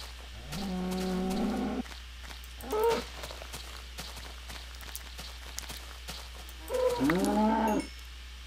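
Cows in Minecraft moo twice, a long low bellow near the start and another near the end, with soft footsteps and quiet game ambience in between.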